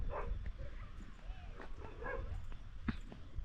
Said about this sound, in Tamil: ஏதோ ஒரே ஒரு நாய் மட்டும் பலமாக சத்தம் போட்டுக்கிட்டு இருக்கு